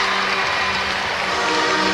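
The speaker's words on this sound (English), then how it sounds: "And now you hear a round of applause making the first of 2 free throws." Arena crowd at a professional NBL Canada basketball game between St. John's Edge and Windsor Express applauding a made free throw, a steady, dense wash of clapping and crowd noise throughout.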